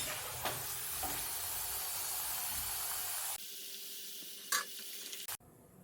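Pieces of elephant yam fry in hot oil with a dense, continuous sizzle and occasional stirring scrapes. The sizzle drops off sharply partway through, leaving quieter clinks and a faint hiss.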